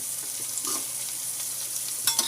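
Onions cooking in a pan with a little turmeric for a black chana palya give a soft, quiet sizzle with faint stirring scrapes and a couple of brief clinks near the end.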